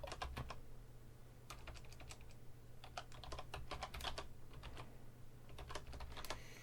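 Rapid bursts of key clicks on a computer keyboard, typed close by while building a blueprint in Unreal Engine 4, with uneven pauses between runs over a steady low hum.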